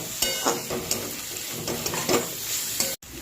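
Chopped tomato frying with turmeric in a pan, stirred with several scraping strokes over a steady sizzle, close and clear, with a brief dropout near the end.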